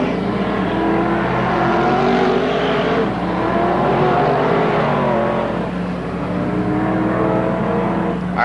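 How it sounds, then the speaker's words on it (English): Modified race cars at Merrittville Speedway in 1988 roar down the front straightaway, a loud sustained engine drone that rises and falls as cars pass close by. "The cars whipping down this front chute."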